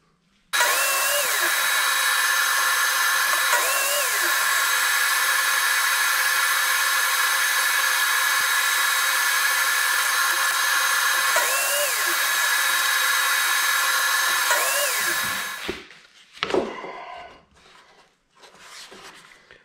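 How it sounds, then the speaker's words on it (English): Power saw cutting a small piece of wood for a lighthouse model build, a loud, steady whine running for about fifteen seconds before winding down with a few trailing clatters. "we'll just find a little piece of wood and we'll cut that out on the saw"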